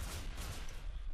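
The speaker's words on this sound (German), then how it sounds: "Hört auf jetzt mit dem Geballer." Rapid gunfire from the online tactical shooter Ghost Recon Online, a dense continuous barrage of shots with heavy low-end thump, loud and sustained throughout with no pauses.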